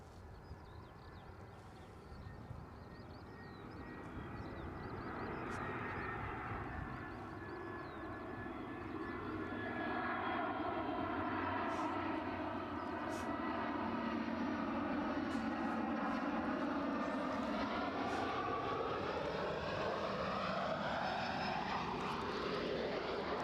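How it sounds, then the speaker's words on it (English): EasyJet airliner arriving from Milan at Edinburgh Airport, its engine roar swelling gradually from faint to strong as it draws closer, with a sweeping, shifting tone. "As we watch in this EasyJet from Milan."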